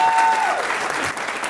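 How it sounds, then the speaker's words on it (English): Audience applause at a business excellence awards gala dinner: a dense, sustained round of clapping from a large room, loud and steady, with a brief tonal whistle near the start. "give them a nice round of applause"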